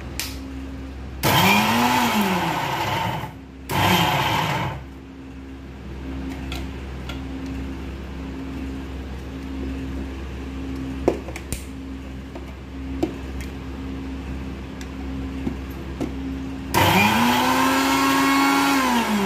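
A mixer grinder coarsely grinds onions for a raw mango dish. It runs in two loud whirring bursts close together near the start, goes quiet for a long stretch, then starts one more burst at the end.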